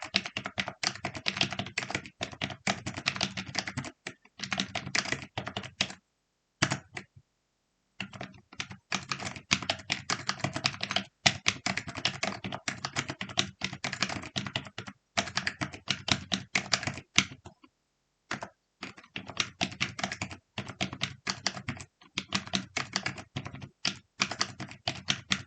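Numbers are typed into an Excel spreadsheet on a computer keyboard, with rapid, close clattering keystrokes in bursts and several short pauses, the digits and Enter presses tapping in quick runs.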